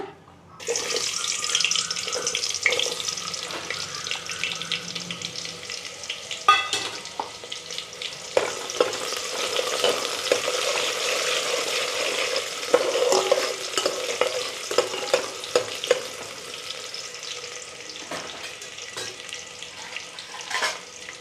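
Chopped onions hiss and crackle as they fry in hot oil for Telangana-style boti curry, a steady, loud, close sizzle with frequent scrapes and clatters of stirring throughout and no talk.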